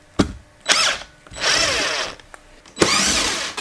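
A cordless power drill spins out screws from an RV light fixture in several short bursts of whining motor, close and loud, separated by brief pauses and faint clicks.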